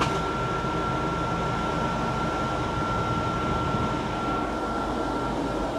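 A vehicle's rear air conditioner runs steadily, giving a constant close-up whoosh of blowing air with a faint steady whine, and no talk is heard.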